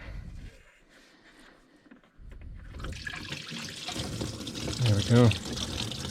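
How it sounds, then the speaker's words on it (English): Coolant drains from the opened drain plug of a Nissan Sentra, a steady splashing pour that starts after a quiet pause and builds through the rest of the clip, with a brief spoken remark over it. "turn the drain plug counterclockwise until it starts draining out"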